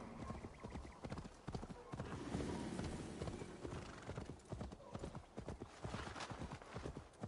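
Horse hooves clip-clop in a steady, close galloping rhythm in Assassin's Creed Valhalla, with occasional whinnies over dense game ambience and no talk.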